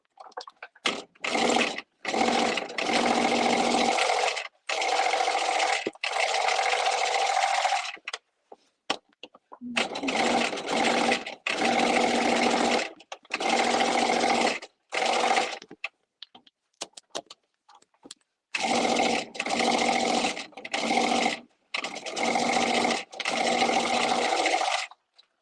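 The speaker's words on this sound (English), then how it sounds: "let me stay stitch this collar real quick" A sewing machine stay-stitches a garment collar in repeated bursts of rapid stitching, each run lasting a few seconds and separated by short pauses and small handling clicks, close and fairly loud.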